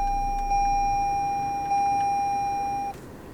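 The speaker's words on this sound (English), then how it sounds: "you could hear the camera actually chimed." A dashcam's steady electronic chime tone holds for about three seconds and then cuts off, over a low hum of an idling 2020 Lexus NX 300 engine and air-conditioning fan.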